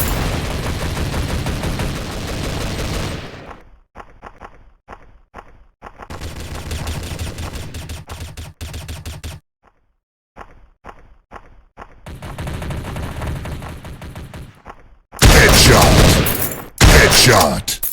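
Shotgun blasts in a video game, loud close bursts in several clusters separated by brief silences, ending with a heavy noisy stretch of firing.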